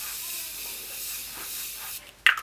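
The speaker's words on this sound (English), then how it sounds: "now I'm going to go in with the Beauty Bakery Sweet Grace Spray and spray this down." A steady airy hiss of a fine mist cosmetic setting spray runs for about two seconds, then stops, followed by a brief sharp click or tap.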